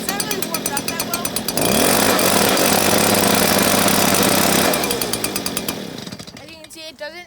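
A Stihl backpack leaf blower engine runs loud and steady at close range, rough and not yet warmed up, its throttle surging up and then easing off to a ragged idle.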